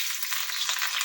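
Green chilies hit hot oil in a pan for bitter gourd curry, giving a steady, close hiss of frying that runs unbroken throughout.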